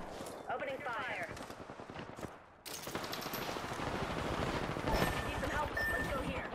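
Rapid gunfire in the Apex Legends video game, dense continuous bursts of shots with a brief pause, steady and fairly loud throughout.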